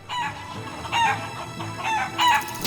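Chickens in Shenmue 3 cluck and a rooster crows in repeated bursts, fairly close and moderately loud over a low background murmur, with no talking.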